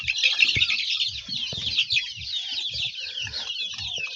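Village chickens raised at home clucking nearby, short soft clucks and chick-like peeps repeating over a bright, constant hiss of background noise, with a few low thumps and rustles.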